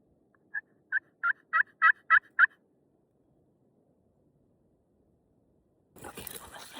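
Wild turkeys gobble from open country where hens sit up on a cliff and toms stay low, a single rolling burst of about seven rising notes ringing out over silence before brief rustling.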